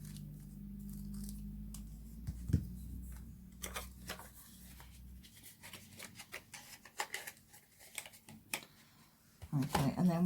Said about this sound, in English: Now, I'm going to cut 2 strips for this.